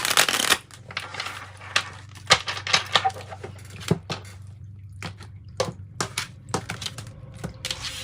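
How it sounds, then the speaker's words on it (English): Tarot cards being shuffled by hand, a run of crisp riffling and flapping bursts with short pauses between them, close and clear with no talking. "Feeling like it needs to be shuffled one more time and then we'll cut them."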